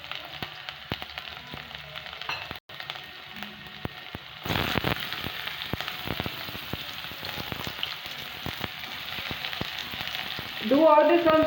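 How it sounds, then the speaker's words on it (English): Chopped garlic and onions fry in a tablespoon of oil over low heat for a tomato and besan dish, giving a steady, close sizzle with scattered crackles and soft stirring that swells louder toward the end. "Do all this on slow fire because it will roast properly and not burn."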